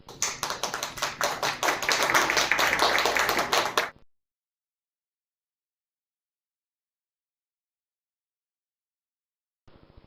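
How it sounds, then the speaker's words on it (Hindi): Congregation at a Christmas Eve midnight church service claps to welcome a speaker, a few seconds of close, rhythmic clapping that swells and then cuts off abruptly into silence. "ताली बजा करके हम उनका स्वागत करेंगे।"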